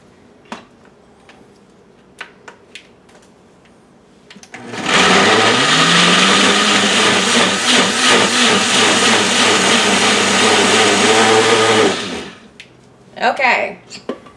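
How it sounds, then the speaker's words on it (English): A loud food processor chops jalapeno peppers for pepper jelly, running steadily for about seven seconds after quiet kitchen noises, then stopping. "And my food processor is so loud."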